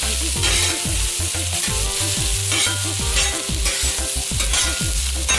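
Beef stir-fries on a hot Hunsaker griddle set over a WSM smoker, giving a steady close sizzle. Repeated rhythmic scraping strokes come from the food being moved around, and no one speaks.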